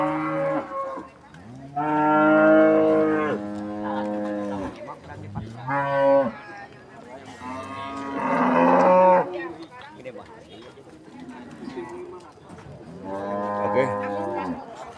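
Cattle moo repeatedly at a busy animal market in Purwakarta, long loud bellowing calls close by, one after another with short pauses, under faint background talk.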